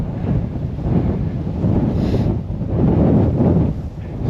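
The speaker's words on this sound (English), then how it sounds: "It's pretty windy here. I hope the audio is not too bad for you guys." Strong wind buffets the microphone outdoors at a windy coastal harbor site, heard as loud, continuous low rumbling gusts that swell and ease over a few seconds, with no voices.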